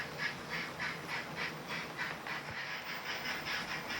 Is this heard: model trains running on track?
yes